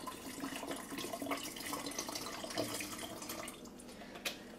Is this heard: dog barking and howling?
no